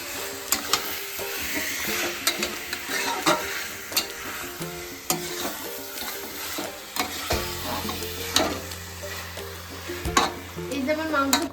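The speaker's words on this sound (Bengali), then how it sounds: "এই যে ম্যারিনেট করে রাখা চিকেনটা আবার এর মধ্যে দিয়ে দেবো" Marinated chicken is stirred into frying masala with whole garlic cloves during Bengali chicken kosha, a continuous sizzle broken by repeated scraping and clanking of the spatula against the pan.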